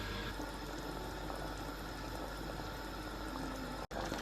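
A pot of okra stew comes up to a boil with a steady, quiet bubbling hiss that holds evenly throughout, broken by one brief drop-out near the end.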